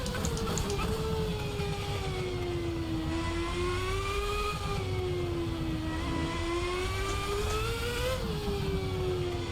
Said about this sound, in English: as we see the cars roar